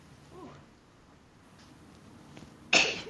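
A single sharp sneeze bursts out near the end, loud and close after a quiet stretch of faint room noise.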